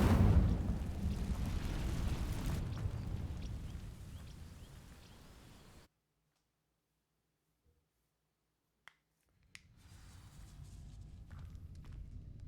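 Fire spell bursting into flame on dry vines in Hogwarts Legacy: a loud, rushing whoosh that fades over several seconds into near silence, followed by a couple of sharp clicks and low ambient game sound.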